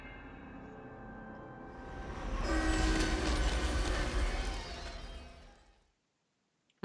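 A train in The 25th Ward rumbles past, swelling from a distant roar to a loud close rush with horn-like tones, then cutting off abruptly to silence.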